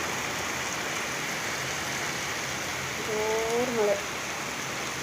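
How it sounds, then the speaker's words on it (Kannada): Heavy rain with strong wind hisses steadily and densely, with a short burst of voices near the end. "ತುಂಬ ಗಾಳಿ ಮಳೆ"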